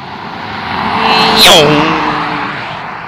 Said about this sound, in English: it's scary because you don't know if the car's coming behind you